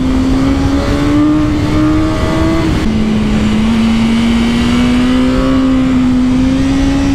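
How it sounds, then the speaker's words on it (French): A BMW S1000R motorcycle engine held high in the revs, a loud continuous drone whose pitch climbs slowly, with a brief dip partway through as it carries on at high rpm, close and with no voices. "le moteur, quand tu es haut dans les tours, il est puissant"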